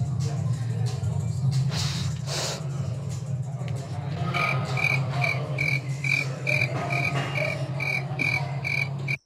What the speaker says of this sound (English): she even puts the grasshoppers in the background